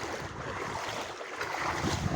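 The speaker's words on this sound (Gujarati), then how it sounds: "આમાં તો યાર હાલવામાં એટલું સામું જોર પડે છે પાણીની." Floodwater sloshes and swirls around legs as someone wades slowly through deep water after heavy rain, a soft, continuous churning with rising splashes toward the end and no voices.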